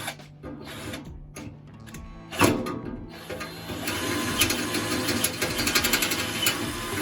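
A budget RZTK RD 1220Li cordless drill bores holes into a wall: a close, steady mechanical whir with a sharp grinding burst partway through, then a louder, continuous rasping drone to the end.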